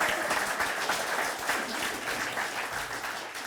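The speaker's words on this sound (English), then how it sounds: "Right now, last round of applause." A closing round of applause from the crowd at a treaty authority launch event, steady dense clapping heard from a little distance without any speech.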